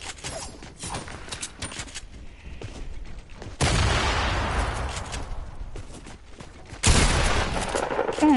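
Sustained bursts of submachine-gun fire in a shooter video game, loud and dense, in long rattling stretches broken by brief lulls and mechanical clatter.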